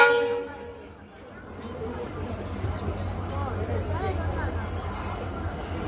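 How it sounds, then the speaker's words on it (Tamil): A Yal Devi passenger train pulls into a station on the Kilinochchi–Jaffna line, a low rumble building steadily with a brief high horn-like tone near the end, while people talk over it. "ஓகே இந்த பாருங்க என்ன ட்ரெயின் வருது"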